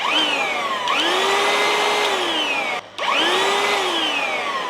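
A counterfeit DeWalt DCV501LN cordless vacuum switches on twice, its motor whining up and surging unevenly, briefly cutting out in between before spinning up again.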